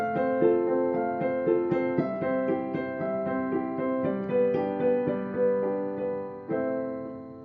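Piano playing arpeggios with both hands moving in opposite directions, a steady flow of ringing notes at moderate volume, played alone without talking.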